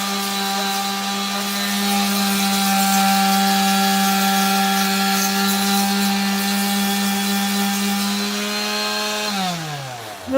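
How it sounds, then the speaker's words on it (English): A rotary power sander works a 3D-printed PLA Iron Man neck piece, giving a loud, steady tonal whine that holds for several seconds before winding down abruptly near the end. "The one key to sanding is that you don't want to stay in one spot for a very long time"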